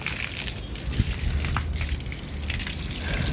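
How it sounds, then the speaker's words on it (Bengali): Water splashes and gushes across a hot concrete rooftop floor being wetted to cool it, a steady broadband wash with a few brief splatters. The sound is close and continuous, with no talking. "এইভাবে প্রতিদিন একটু করে ভিজায় দিলে ফ্লোরটাও ঠান্ডা থাকে"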